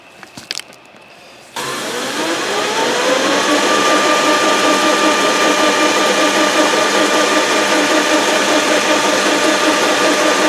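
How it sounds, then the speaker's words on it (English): A compact rotary broach from a Hemingway kit spins at slow speed while broaching holes on a machine, the motor whirring into a loud steady drone after a few brief clunks, with no voices. "I will put it on a little bit slow speed"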